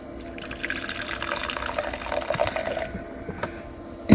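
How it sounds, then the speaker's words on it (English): Water pours into a container for making coffee, a steady trickling fill with a rising tone that ends in a brief clunk. "I'm just going to put a little bit of water in here to start."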